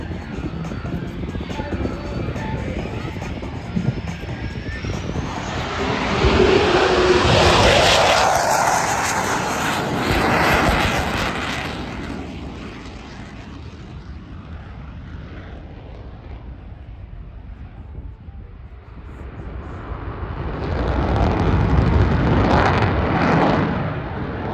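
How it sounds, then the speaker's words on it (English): A Boeing F/A-18F Super Hornet makes its final pass with afterburners lit during a night air show display at Avalon, a loud rising roar that peaks, fades into a distant rumble, then swells again. "as the boys conduct their final salute to you by lighting the burners, and they'll squat the jet one last time"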